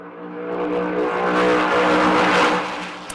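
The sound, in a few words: NASCAR race car accelerating loudly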